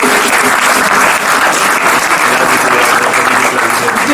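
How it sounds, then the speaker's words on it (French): Magic show audience gives loud, sustained applause for a volunteer named Dominique, thick continuous clapping from a full room. "vous pouvez applaudir Dominique très fort"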